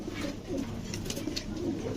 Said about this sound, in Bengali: মাশাল্লাহ খুবই সুন্দর কবুতর এবং বিশাল সাইজ বিশাল সাইজ কবুতরগুলা